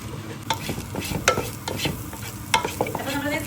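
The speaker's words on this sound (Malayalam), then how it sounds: "നല്ലോണം മിക്സ് ചെയ്തിട്ട് സ്ക്രാമ്പിളിലേക്ക് പോലെ ആക്കി എടുക്കാം" Eggs seasoned with salt and pepper scrambled in a pan for restaurant-style egg fried rice, the spatula scraping and tapping steadily against the pan over a continuous sizzle, close up with no talking.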